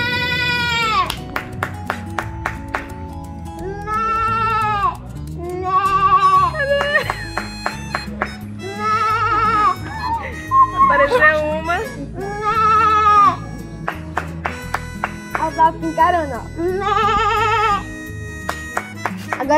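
Goats bleat repeatedly, loud and close, in Ipueiras, Ceará, Brazil, with wavering cries overlapping one another and people talking amid the bleats.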